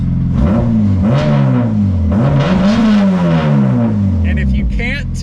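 A Subaru FRS with a swapped Honda K24 engine and a modified rear exhaust revs repeatedly, each rise and fall of pitch loud and close, with a voice briefly audible near the end.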